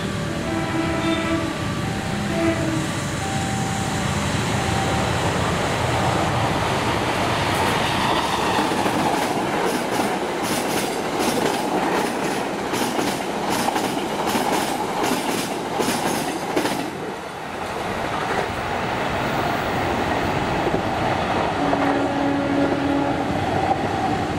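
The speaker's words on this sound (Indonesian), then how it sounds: "kereta yang akan melintas berikut ini adalah kereta api Bogowonto 135 dari stasiun Lempuyangan tujuan stasiun Pasar Senen" The Bogowonto passenger train from Lempuyangan to Pasar Senen roars past up close, with a steady loud rumble, rhythmic clickety-clack of wagons over rail joints, and a horn blast at the start and end.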